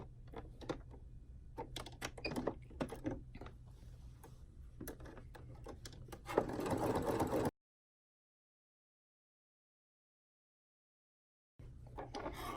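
A sewing machine stitches a pocket on jogger pants in short bursts of rapid mechanical clatter, broken by a pause and a long silence before stitching resumes.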